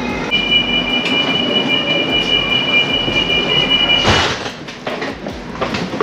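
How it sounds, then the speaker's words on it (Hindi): A train pulls into a station in the Netherlands, its wheels squealing in a steady high whine over a rumbling roll, then a brief loud hiss of air brakes before the noise settles to a quieter rumble. "चलो जी, अपनी ट्रेन आ गई।"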